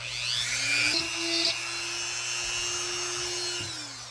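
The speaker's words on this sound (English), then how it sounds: "We got like a little Dremel mill here." A small Dremel mill whines as it carves an indent, spinning up sharply, holding a steady high-pitched tone for a few seconds, then winding down. It sounds close and fairly loud, with no talking.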